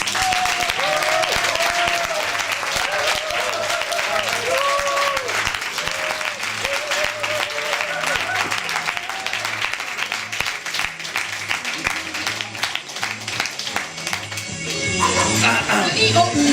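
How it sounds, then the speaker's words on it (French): An audience at an improv theatre show claps loudly and continuously for an improv team. Voices and cheers rise over the clapping early on, and the applause swells again at the end. "On les applaudit bien fort, les Bordeaux."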